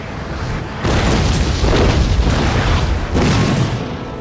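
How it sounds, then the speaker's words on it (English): Howitzer artillery barrage in the Napoleon: Total War video game, heavy booming blasts rolling together into a loud sustained rumble, with a fresh burst near the start and another swell of explosions toward the end. "The next howitzer barrage."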